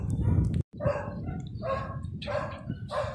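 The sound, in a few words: dogs barking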